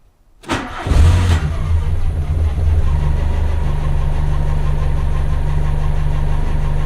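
A Mk2 Volkswagen Golf engine cranks and catches with a loud roar, then settles into a steady, rumbling idle close by, with no voices.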